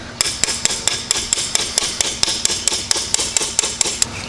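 Quick, regular taps of a small hammer denting knife steel, about five per second, crisp and close with a ringing edge.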